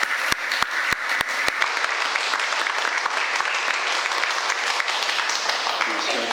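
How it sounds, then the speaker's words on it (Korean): A church congregation at a Sunday worship service bursts into applause, starting with several sharp individual claps and then settling into a sustained, dense round of clapping from the whole room. "우리 아이들에게 천국의 은혜를 베풀어 주신 하나님께 영광의 박수 올려드리겠습니다."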